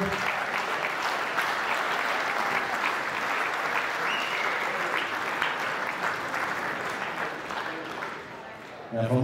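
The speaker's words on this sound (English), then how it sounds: "Another round of applause for the team, ladies and gentlemen." Wedding guests giving a warm round of applause at the reception speeches, a full, steady burst of clapping from a crowd nearby that tapers off at the end.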